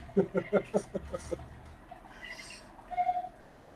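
A bird gives a rapid run of about eight hooting, cooing calls, then a few fainter higher notes and a short final call, fairly close against a quiet room.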